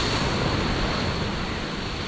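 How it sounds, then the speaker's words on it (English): Big, rough surf pounds against cliffs about 20 feet high. It makes a loud, continuous roar of crashing water with no voices. "so you can see how the waves just pounding."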